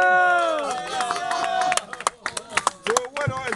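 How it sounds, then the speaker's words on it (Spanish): A concert audience at a Cerro Jam show breaks into applause and cheering. A sung or shouted voice comes first, then scattered, uneven claps and crowd noise follow close by. "¡Aplauso! ¡Bravo!"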